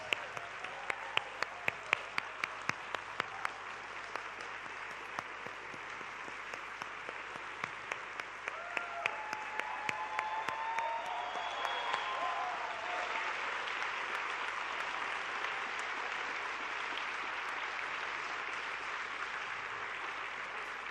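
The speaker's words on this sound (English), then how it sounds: "Very big round of applause there, and you deserve it." An audience applauds a guest walking onstage at an education conference. It opens with a few sharp, separate claps, then swells into sustained, even applause that carries on for a long stretch.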